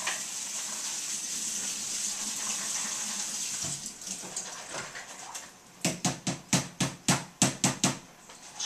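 Chickpeas rinsed under running tap water, a steady close hiss of flowing water that gives way to a rapid series of sharp splashy bursts as the chickpeas are tossed around in it.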